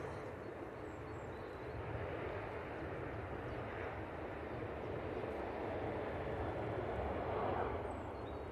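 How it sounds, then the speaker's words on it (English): A Boeing 737-800 jet departing Manchester Airport, a steady broad engine roar heard from a distance that swells slightly toward the end, with people talking faintly underneath. "So 737-800, just departing."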